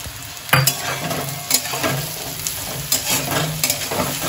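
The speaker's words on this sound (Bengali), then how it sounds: "আলুটা আমি 1-2 মিনিট মতো ভেজে নিয়েছি, তারপর আমি পেঁয়াজটা দিয়ে দিচ্ছি। পেঁয়াজের সাথে আমি কুচানো লঙ্কাগুলোও দিয়ে দিলাম।" Potatoes frying in a pan as onions and chopped green chillies go in, a steady close sizzle broken by repeated scraping stirs and clinks of the spatula, with no talking.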